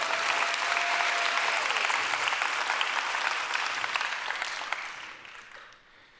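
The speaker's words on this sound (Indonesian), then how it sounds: "Dari tepuk tangannya sih bukan tepuk tangan antusias nih." Church congregation applauding during a sermon, with a dense wash of clapping that holds steady, then thins and fades out over the last two seconds.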